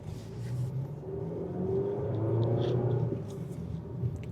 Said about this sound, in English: I'm going to put it really quick into sport mode and let's see how this car drives with it